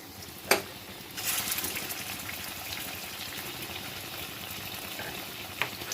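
Kofta mixture of raw green banana sizzles in hot oil, a low steady frying hiss with a couple of sharp pops as portions drop in, close and unaccompanied by talk.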